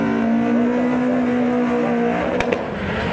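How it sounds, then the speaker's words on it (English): Ford Escort RS Cosworth engine at a Santa Pod drag race meet, a steady loud drone with a high whine, rising in pitch with a short sharp pop near the end. "sounds a little naughty, a little Escort RS down there"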